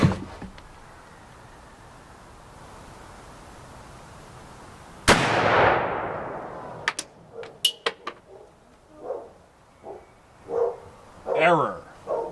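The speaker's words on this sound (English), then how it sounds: "we're just going to fire 3 rounds over the chronograph" A single loud 7.62x54R rifle shot, fired from Czech training ammunition over a chronograph, cracks out sharply and rings away, followed by a few clicks and handling noises while people talk.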